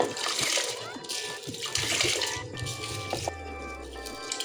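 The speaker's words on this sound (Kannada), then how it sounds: "ಚೆಂದಾಗಿ ಸ್ವಲ್ಪ ತೊಳ್ಕೊತೀನಿ ರೀ. ತೊಳೆದು ಕುಕ್ಕರ್ನಾಗ ಹಾಕ್ತೀನಿ ರೀ." Water sloshes and trickles in bursts as mixed lentils and pulses are rinsed and stirred in a vessel, ending with a low hum.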